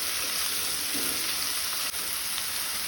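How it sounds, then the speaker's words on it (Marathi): Chopped tomatoes frying with onion in a pan for a Goan prawn masala curry, a steady close sizzle and crackle that holds for the whole stretch with no voices. "टमाट मातशे तळसून घेवया"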